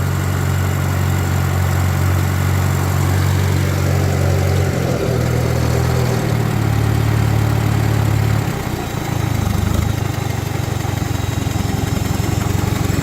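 A 1949 Farmall Super AV high-clearance tractor engine idles steadily up close, settling into a slower, lower idle partway through, with a continuous loud mechanical rumble and no talking.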